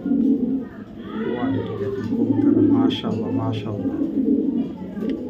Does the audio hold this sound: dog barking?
no